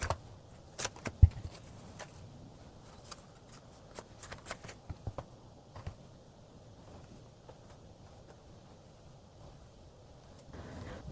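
Tarot cards shuffled and drawn during a reading, a soft rustling and a few sharp flicks and slaps of the deck, mostly in the first half, close and quiet, with no voice.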